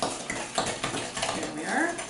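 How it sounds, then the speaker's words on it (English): Gluten-free chocolate chip cookie dough being stirred vigorously in a bowl, quick scraping and clinking of a utensil against the bowl, close and continuous over a short stretch. "You have to stir it quite vigorously to get it all incorporated."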